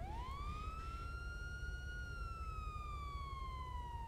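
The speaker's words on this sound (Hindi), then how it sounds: "वो बंद करो सायरन बंद कर दो।" A police car siren in GTA V No Pixel roleplay sounds a single long rising-and-falling wail, steady and clear above a low rumbling engine-like background.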